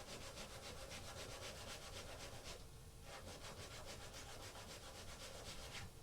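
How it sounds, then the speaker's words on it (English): A bone saddle for a Martin HD-28 guitar is rubbed back and forth on sandpaper, giving steady, close, continuous scraping strokes with a brief pause midway and no talking. "I'm just going to hold this down on the sandpaper"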